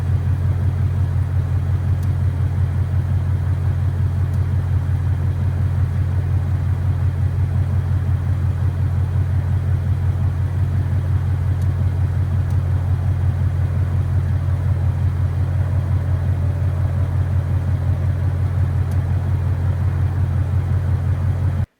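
A 2024 Ford Mustang GT S650 idles nearby with a steady low engine rumble, a faint regular ticking riding over the even drone throughout.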